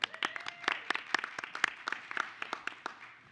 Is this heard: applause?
yes